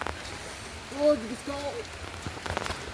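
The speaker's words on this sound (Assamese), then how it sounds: "এতিয়া বৰষুণ জাক দি আছে" Steady rain patters on a surface throughout, with a faint brief tonal whine in the middle and a few soft knocks near the end.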